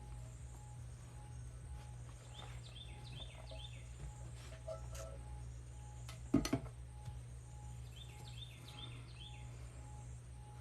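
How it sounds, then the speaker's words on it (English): Birds sing outdoors in short repeated chirping phrases, faint and distant over a steady low hum, with a brief louder clatter midway. "Birds getting loud."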